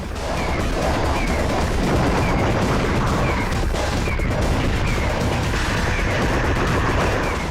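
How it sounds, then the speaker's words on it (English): Dense, nonstop explosions and rapid gunfire from a Sega Saturn shoot 'em up, a loud continuous barrage of crashing blasts and bursts with no pauses. "Everything around you is always booming, bursting, and collapsing, with the explosions being the star of the show."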